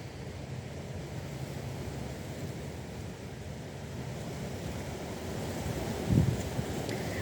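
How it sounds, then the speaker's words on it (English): Wind blows steadily outdoors as a broad, constant rush with microphone buffeting, loud and close throughout, with a brief flap near the end and no speech. "The wind is flapping my card."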